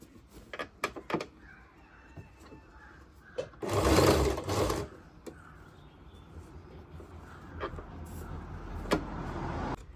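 A sewing machine stitches pleats into a churidar pant, running in short bursts broken by clicks and handling noises, then one louder sustained run in the middle, with quieter machine hum and fabric rustle continuing afterward.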